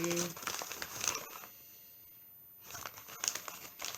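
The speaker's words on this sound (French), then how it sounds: "Et nous allons ouvrir le paquet." A plastic-wrapped Advent calendar package is opened, its wrapping crinkling and rustling in close, quiet bursts with a short pause in the middle.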